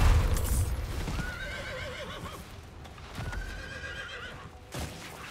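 A horse in Diablo IV gives two loud whinnying neighs in quick succession over hoofbeats and low rumbling game sounds, with a sharp thud at the start.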